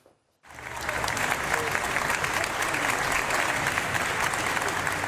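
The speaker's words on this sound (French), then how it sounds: "Nicolas Hulot, longuement applaudi" Long, dense applause from a large crowd welcoming Nicolas Hulot, former French ecology minister, starting abruptly after a brief silence and holding steady and loud throughout.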